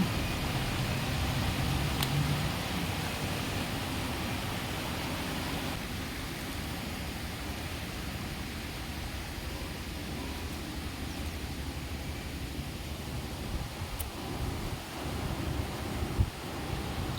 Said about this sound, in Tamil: இது மேலே அருவியிலேருந்து வர தண்ணி